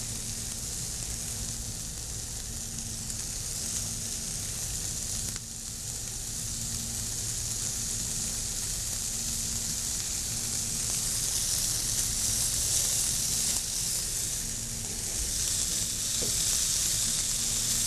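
Potatoes frying in a hot pan give a steady, close sizzle that runs unbroken throughout, with a faint low hum underneath and no voices.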